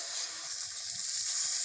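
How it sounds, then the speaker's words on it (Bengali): Boiled broad beans (shim) frying dry in a pan, a soft steady sizzle and hiss that stays faint and even, with no voices. "এইভাবে একটু ভাজা ভাজা করে নেব"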